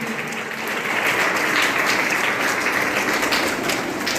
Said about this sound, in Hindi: एक बार जोरदार तालियां आंचल के।